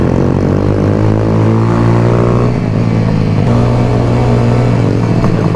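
A big, heavy motorcycle on a beach trip in St. Mary, Jamaica, engine droning loudly and steadily up close with a low, rough rumble throughout.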